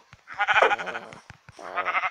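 A black sheep bleats close by in two wavering, nasal calls separated by a short pause, with brief clicks and light background noise between them.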